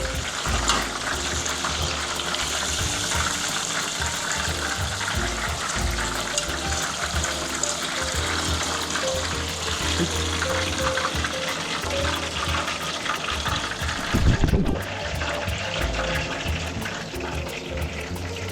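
Pork cutlet deep-frying in hot oil, a dense, loud, continuous bubbling hiss that holds steady throughout, with a brief burst of clunking near the end.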